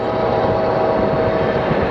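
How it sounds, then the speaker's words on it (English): A steady, broadband rumble with a constant low drone, a train rolling past at moderate distance near an airport, continuous and unchanging throughout. "I hear that train."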